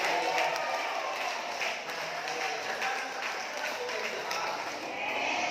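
A church congregation applauds during a service, a steady, dense wash of many hands clapping that holds at an even level throughout.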